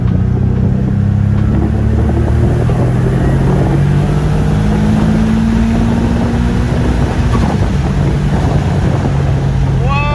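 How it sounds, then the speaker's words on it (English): Turbocharged Infiniti G35 pulling at wide open throttle in third gear from low revs, a loud in-cabin engine roar climbing steadily in pitch over several seconds, then breaking into rougher noise near the end. "we're gonna do wide open throttle from about 1000 RPMs"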